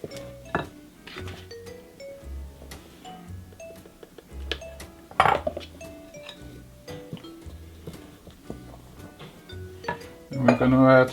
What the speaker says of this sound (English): I'm not beating it and just stirring it in